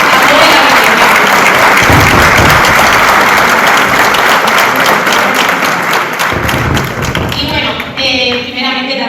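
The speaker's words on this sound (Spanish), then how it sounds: "un aplauso muy fuerte para escucharnos a toda la biblioteca" Loud applause from an audience at a provincial book club gathering in a library, dense and steady for several seconds before thinning out, with a voice starting near the end.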